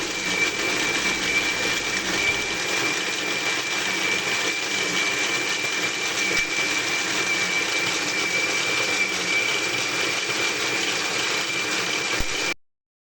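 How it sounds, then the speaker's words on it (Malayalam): A mixer grinder runs loud and steady for about twelve seconds, blending roasted coconut with water into a paste, a high motor whine over a coarse churning roar that stops abruptly at the end. "ഈ മിക്സിയിൽ പാകത്തിന് വെള്ളം ഒഴിച്ചിട്ടേ നന്നായിട്ടൊന്ന് അരച്ചെടുക്കട്ടെ"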